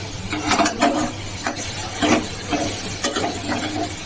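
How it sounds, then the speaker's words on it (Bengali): Snail curry (gugli bati) being sautéed in a pan, a spoon scraping and stirring in uneven strokes with a soft sizzle underneath, close and fairly loud. "হ্যাঁ, এটা এবারে সুন্দর করে কষিয়ে নেব"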